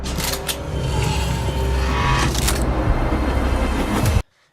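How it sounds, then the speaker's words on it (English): A vehicle approaches loudly in a movie trailer scene, a roaring engine and tire noise sustained for about four seconds before cutting abruptly to silence. "Vehicle approaching."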